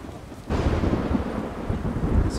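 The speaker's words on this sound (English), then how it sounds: "Oh, how stormy is this going to be?" Thunder rolls in during a storm in the video game The Witcher 3: Wild Hunt, a sudden loud, deep rumble that starts abruptly and sustains with rainy hiss.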